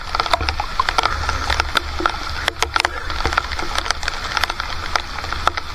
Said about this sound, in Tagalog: Oh, grabe yung ulan.